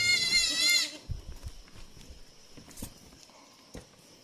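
A young goat bleats loudly and tremulously at the start, followed by quieter shuffling hoof taps and rustling nearby, with a faint distant cry later.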